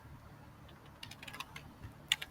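A command typed on a computer keyboard, heard as a faint, close, irregular run of light key clicks over a quiet background, ending with one sharper keystroke.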